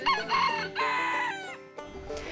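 A rooster at a farm animal sanctuary crows loudly and close by in a long, strained call with several rising and falling segments, followed by a shorter squawk at the end.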